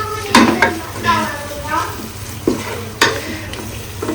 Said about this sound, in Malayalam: എല്ലാം ശരിക്കൊന്ന് പിന്നെ വഴറ്റി യോജിപ്പിക്കുക കേട്ടോ.